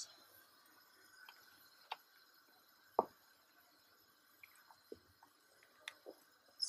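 Food stirred in a pan with pancetta nearby: soft, sparse ticks and light squishy scrapes at irregular intervals, quiet and close, with no talk.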